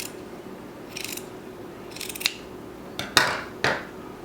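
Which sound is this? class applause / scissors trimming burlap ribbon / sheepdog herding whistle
scissors trimming burlap ribbon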